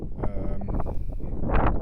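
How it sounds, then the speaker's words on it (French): Gusty outdoor wind buffets the microphone with loud, uneven low rumbles that swell toward the end, and no voice is heard. "il y a du vent, j'espère que tu entendras"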